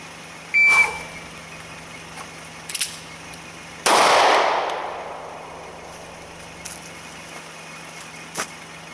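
A handgun fired during a condition 3 drill with an empty chamber, where the weapon is presented and a round cycled: a sharp metallic click, a faint tap, then one loud close gunshot with a ringing decay over quiet background.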